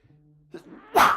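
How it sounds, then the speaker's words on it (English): A single loud, close human sneeze bursts out after a brief faint inhale, with no talking. "I'm sneezing on stream and stuff"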